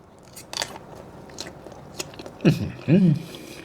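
Someone bites into a mustard sausage up close, with a few soft crunchy bites and chewing sounds, followed by short hummed voice sounds near the end.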